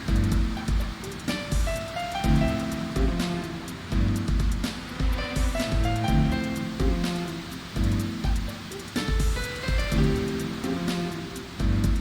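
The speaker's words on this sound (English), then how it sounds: "Listening to the gentle waves, I feel a calmness wash over me" Gentle waves lap at a harbor in Racing Lagoon, a steady wash of water under a soft, looping game music track, heard without voices.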